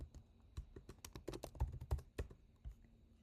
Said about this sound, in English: and we just start typing.